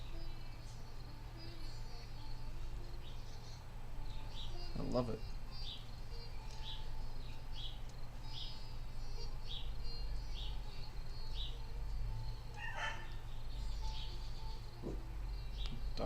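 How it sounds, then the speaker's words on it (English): Birds chirp and tweet intermittently outdoors against a steady hum of insects, with a brief spoken remark and a few sharp knocks. "I don't know if you guys can hear the birds."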